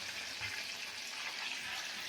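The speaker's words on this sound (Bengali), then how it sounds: "এখানে আমি ফোড়নটা রেডি করে নিচ্ছি, ভেজে নিই ভালো করে।" Whole cumin and bay leaves sizzle steadily in hot oil for a Bengali tempering, a continuous soft hiss close by with no talking.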